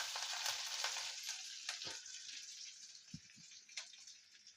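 Soft, fairly quiet sizzling of onions and curry leaves frying in oil after mustard seeds, with scattered light pops and the occasional stir or clink.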